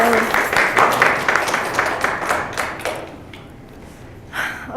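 An audience at an artist talk applauds to welcome artist Kelly Schrader: a burst of close, steady clapping that thins out and fades after about three seconds, followed by quieter room sounds.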